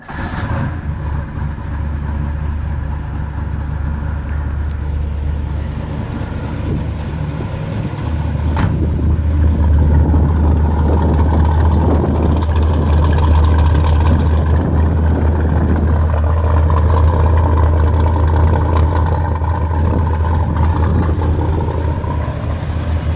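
A cold 1970 W-30 car engine turns over and catches, settling into a loud, rough idle that rumbles steadily and up close.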